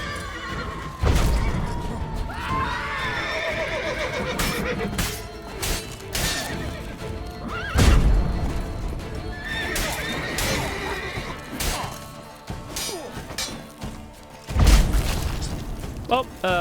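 Geralt's horse Roach in The Witcher 3 neighing loudly several times over clip-clopping hooves and heavy game effects, with someone talking throughout.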